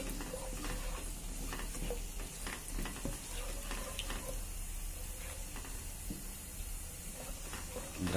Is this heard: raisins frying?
yes